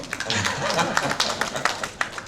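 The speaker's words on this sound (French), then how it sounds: "Merci pour les applaudissements." Audience applause at a conference on decentralisation, a short burst of scattered claps under a speaking voice.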